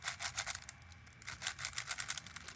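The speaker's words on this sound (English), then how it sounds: "As long as the performance isn't affected by the clicking sound, it's not necessarily defective" Plastic puzzle cube turned by hand, giving rapid close clicking bursts with a brief pause midway, faint and unaccompanied by talk.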